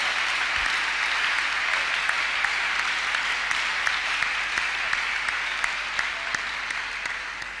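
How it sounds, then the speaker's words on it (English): A church congregation at a counselling and deliverance service clapping their hands together, producing dense, sustained applause that stays loud and even for the whole stretch. "Let's clap our hands unto God of the Chosen."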